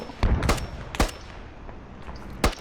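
Shots ring out in the military shooter Squad as a grenadier fights: three or four sharp, separate cracks about half a second apart, then a pause and one more shot, loud and close over quiet background.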